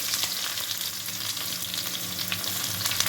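Onion, mustard seeds and cumin frying in hot oil with green chilli, a steady close crackling sizzle with busy high hiss running throughout, no voices.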